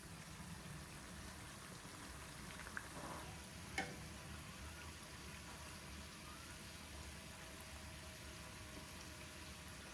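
Banana vaipan fritters made with baking powder fry in hot oil with a faint, steady sizzle, broken once by a soft tick, with no talking.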